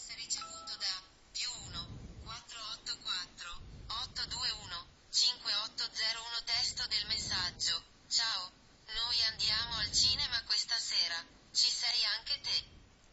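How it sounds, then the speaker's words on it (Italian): An Android phone receives a text message and reads it aloud automatically in a synthesized voice, with steady spoken phrases running through most of the clip. "avete sentito che è arrivato un messaggio ed è stato letto automaticamente a voce alta dal nostro cellulare"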